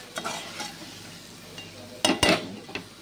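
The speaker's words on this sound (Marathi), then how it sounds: "असं परतून घ्यायचं, थोडंसं मसाला असा अंड्याला लागून द्यायचा असं।" Eggs being sautéed in masala for a village-style egg curry, with soft sizzling and a spoon scraping and stirring the pan, including two sharper bursts of clatter near the end.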